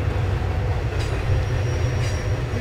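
A train led by a retired former Santa Fe locomotive rolls past close by, a steady loud rumble with rail wheel noise and faint squeals throughout.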